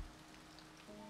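Steady rain falls in the video game Finding Paradise, a soft, even hiss of drops on surfaces, faint and continuous with no voices.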